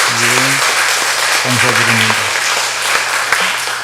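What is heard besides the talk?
church congregation applause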